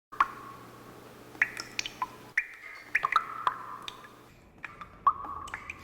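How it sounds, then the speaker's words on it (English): Water drips steadily in a tense film scene, with distinct close plinks and plops landing at an uneven rhythm over a low background hum, and no voices. "a constant dripping sound"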